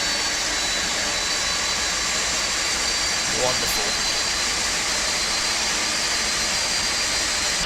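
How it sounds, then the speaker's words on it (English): Boeing 747-200 in the Felis flight simulator with a jet engine spooled up after start, a loud, steady, broadband roar with a high whine throughout; someone speaks briefly in the middle. "Good, that's good start on engine number 4"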